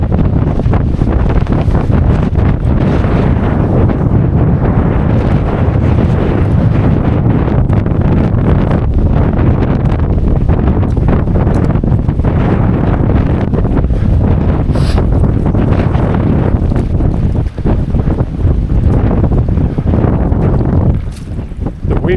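Strong wind buffets the microphone on the Watkins Path up Snowdon, a loud, continuous roaring rumble that gusts steadily for the whole stretch, with no voices over it.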